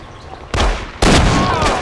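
Gunfire in the game Mafia comes as two loud, close blasts about half a second apart, each a sharp crack followed by a ringing, roaring tail over low background noise.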